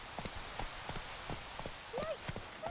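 Horse Roach trotting in The Witcher 3, hoofbeats clopping steadily at moderate distance under a low ambient bed, with brief vocal sounds near the end.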